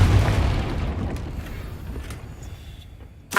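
A Confringo blasting spell explosion in the video game SpiritVale, a loud, low boom that rumbles and slowly fades over a few seconds, ending with a sharp pop.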